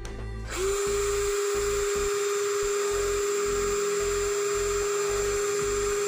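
A Bitec BID1 cordless impact drill starts up in drilling mode at low gear with maximum torque, holding a steady, loud, whirring motor tone from just after the start until the end, close and without talk.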